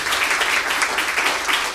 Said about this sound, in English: Please hold your applause.